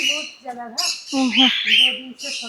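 Talking parrots near a stream-view stay in Wayanad, Kerala, squawk and chatter in loud, close, harmonic calls, several bursts in quick succession with voice-like inflections.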